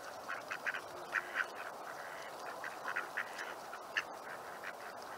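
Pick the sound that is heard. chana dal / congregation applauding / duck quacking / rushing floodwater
duck quacking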